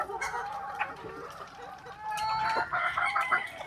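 Straight-comb rooster clucking up close, a run of short, uneven clucks and calls over about four seconds, with no talking.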